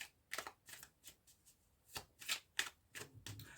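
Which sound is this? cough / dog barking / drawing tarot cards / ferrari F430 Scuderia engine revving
drawing tarot cards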